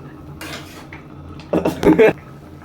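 A metal lid comes off a cooking pot of tomatoes with a few clattering clinks of metal on metal, the loudest knocks arriving toward the end of a short, close burst.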